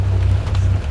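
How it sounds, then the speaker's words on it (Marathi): Steady rain pouring down outdoors during a family outing, a dense continuous wash with a strong low rumble throughout and no voices. "हे बघ पाऊस येत आहे"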